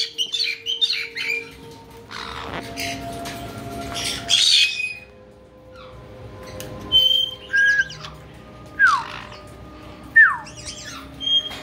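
Pet parrots squawking and whistling indoors, with sharp, loud calls in irregular bursts and short, bright whistles scattered across the stretch, separated by brief pauses.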